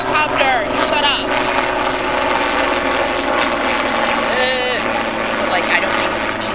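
A helicopter passes overhead as a steady, loud broadband engine and rotor drone throughout, with a person's voice breaking in over the noise at times.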